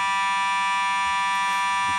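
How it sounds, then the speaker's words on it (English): Fire alarm in a TV studio blaring a steady, loud, piercing electronic tone that holds unbroken throughout, with no talk over it. "we're experiencing an alarm here and a fire alarm here at our GPP studios"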